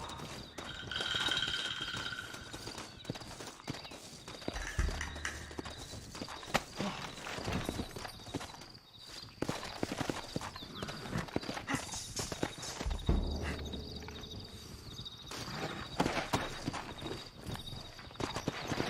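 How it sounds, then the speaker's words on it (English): Hooves pound in a rapid clip-clop as horses gallop along in Red Dead Redemption, with a whinny and rattling tack amid loud, busy game background noise. "Looks like Carlos left us some horses."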